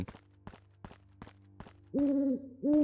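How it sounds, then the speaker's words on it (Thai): An owl hooting in the horror video game Evil Crow: repeated loud, close hoots arrive after a run of soft rhythmic footsteps, with no talking. "ทั้งอีกาทั้งนกฮูกเลย"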